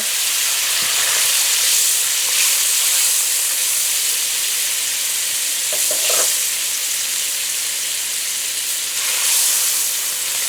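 Butter melting in a heated karahi, giving a loud, constant close hiss and sizzle with brief stirring scrapes, no talk.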